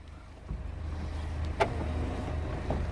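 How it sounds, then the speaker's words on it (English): Retracting door handles on a Jaecoo J7 pop out with a brief mechanical whir and click, preceded and followed by faint soft clicks over a low, steady background hum. "as you approach, the handles will pop out"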